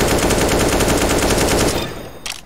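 Sustained full-auto spray from a CS:GO rifle, a rapid, steady stream of loud, close shots lasting about two seconds, then an abrupt stop with a brief tail.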